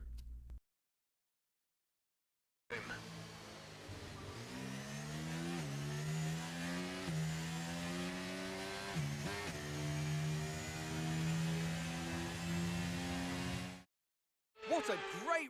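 An F1 race car engine howls in the F1 23 racing game on a final lap at the Belgian Grand Prix, with loud sustained high revs rising and dropping through gear changes, then cutting off abruptly.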